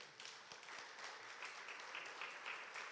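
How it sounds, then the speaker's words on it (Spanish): A church congregation at a Spanish-language sermon breaks into dense, continuous applause, many hands clapping together at an even level and sounding somewhat distant. "dale un aplauso al Señor"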